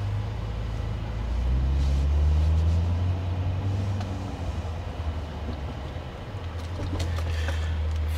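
A C8 Corvette idles low and steady in Sport Mode as launch control is set up, a deep rumble filling the clip with a slight swell in the middle and no speech over it.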